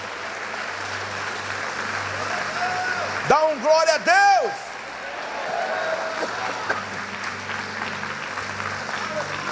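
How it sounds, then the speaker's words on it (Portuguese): A church congregation claps for the Lord, steady applause running throughout, broken midway by a voice exclaiming in praise, with crowd noise around. "Dê uma salva de palmas ao Senhor, querido"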